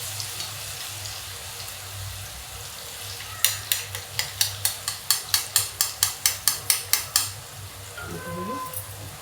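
Coloured boondi for laddu frying in hot oil: a low sizzle with a regular series of a dozen or so sharp taps in steady rhythm, likely a ladle knocking against the pan's edge, then quieter sizzling.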